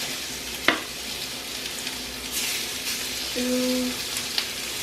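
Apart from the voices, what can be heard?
chicken sizzling in hot pan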